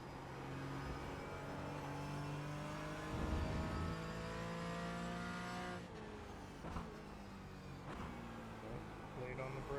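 GT4 race car engine droning steadily in iRacing with harmonic whine, shifting pitch through gear changes and braking, under a speaking voice.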